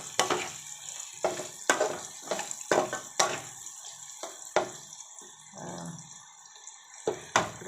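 Chayote pieces stirred in a little oil in a pan make sharp spatula scrapes and knocks at an irregular pace over a faint sizzle, with no voices.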